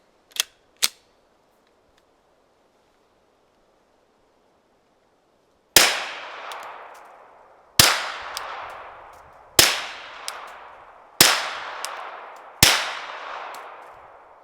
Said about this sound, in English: So these are the suppressors. Let's load them up. Let's shoot them.